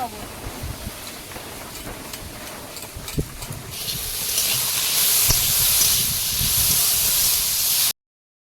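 Chili and turmeric dropped into hot oil in a home kitchen in the Sundarbans, bursting into a loud, steady hissing sizzle after some initial clatter, under background talk.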